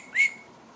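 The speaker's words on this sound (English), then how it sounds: "So it is a whistle." An old Keds Lost in Space plastic toy whistle gives one short, clear, high-pitched tweet, close by and fading quickly into near silence.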